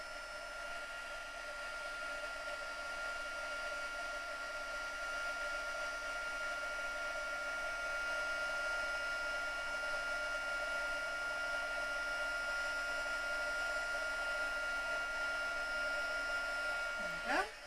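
A craft heat tool blows on card for a slimline card, a continuous whirring hum that holds steady for the whole stretch and cuts off sharply at the end.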